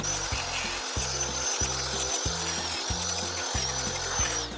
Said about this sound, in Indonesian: Selanjutnya tinggal kita gerinda di bagian sudut-sudut ini supaya tidak tajam.